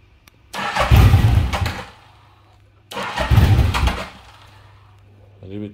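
An old 1985 Yamaha Vmax 1200 motorcycle engine cranks and catches twice. Each start is a close, loud burst of engine noise lasting about a second before it dies, and a brief sound follows at the end.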